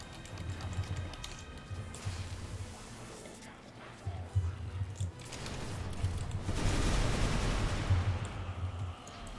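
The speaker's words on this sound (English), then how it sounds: "Massive explosion." Mines go off in the Magicka video game, with repeated rumbling blasts and crackling bursts building to a louder, longer explosion near the end, over a low pulsing game soundtrack.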